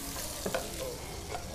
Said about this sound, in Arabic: الزيت تاعنا سخنت، نحطوا البصل تاعنا، نقليو البصل مليح